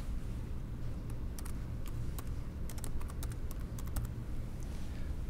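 A computer keyboard being typed on to enter a folder name on a PC, with quick irregular key clicks over a low steady background hum.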